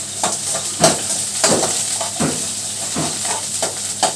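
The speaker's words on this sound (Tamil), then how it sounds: "இந்த எண்ணெயில் அந்த பூண்டையும் வெங்காயத்தையும் கொஞ்சம் நல்லா ஃப்ரை பண்ணி" Garlic and onion fry in sesame oil for a Chettinad-style fish curry, a loud, close, continuous sizzle broken by rhythmic scraping stirs about every half second, with no talking.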